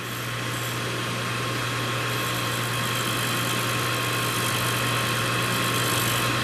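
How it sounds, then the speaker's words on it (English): A Rush 132 drill grinder runs steadily while a dresser is touched against its grinding wheel under flood coolant, producing a loud, continuous, even mechanical hum and hiss with no break for the whole stretch. "Switch on. Bring the dresser in, just touch off on the wheel."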